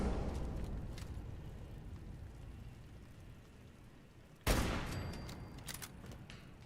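A turret firing in a shooter game, a distant rumbling fusillade of rapid shots under continuous background noise, then a sudden louder burst partway through.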